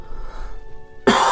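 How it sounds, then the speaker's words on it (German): A single sharp cough bursts out near the end after a stretch of quiet game background hum, loud and close to the microphone. "Moment, kurz husten."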